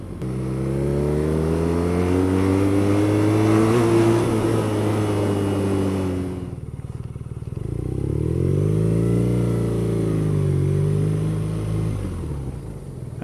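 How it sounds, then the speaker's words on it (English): A 2014 BMW R nineT motorcycle on its stock exhaust while being ridden: a loud, steady engine drone that rises in pitch, eases off, then builds again, heard up close with no talk. "I'm not wearing earplugs and even the stock exhausts sounds very good"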